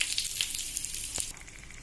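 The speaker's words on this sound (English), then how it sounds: "I added the onions and the garam masala. I'm going to give it a quick stir." Onions and garam masala sizzling and being stirred in a pan, a steady bright crackle with a few soft scrapes, close and alone.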